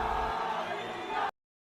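Audience in a film breaks into loud, continuous clapping and light cheering, a dense wash of applause that cuts off abruptly partway through.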